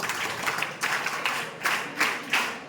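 Students in a high school classroom clap together in a steady rhythm, about six sharp, evenly spaced group claps over a few seconds, fairly close and with no talking over them.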